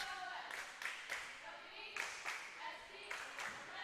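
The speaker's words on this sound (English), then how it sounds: "in the background, you can hear the Normal West, JV, and Varsity cheering" Normal West JV and Varsity fans cheer faintly in the background at a girls volleyball match, with rhythmic bursts of chanting and clapping repeating every second or so under quiet talk.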